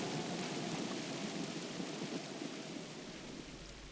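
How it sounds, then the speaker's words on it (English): Heavy rain pours steadily through a storm, a dense continuous wash with deep rumbling low end like wind or distant thunder, loud and unbroken with no voices. "it still rains, and the wind still howls"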